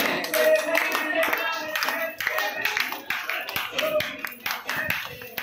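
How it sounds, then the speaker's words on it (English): Children at an international school's Independence Day celebration clap along to a song, a steady run of rhythmic hand claps mixed with music and voices throughout. "Everyone clap."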